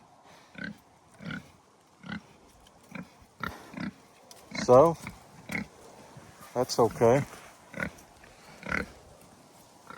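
Pigs in a farm pen give short, regular grunts close by, with a few louder squealing snorts in the middle, while someone talks over them.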